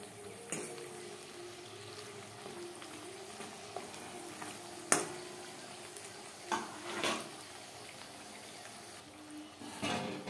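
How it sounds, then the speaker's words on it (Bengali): Papdi, small flat dough crisps, frying in hot oil while being turned until crunchy, making a soft, low sizzle with a few sharp clicks and pops scattered throughout. "পাপড়ি উল্টে পাল্টে মচমচে করে ভাজতে হবে"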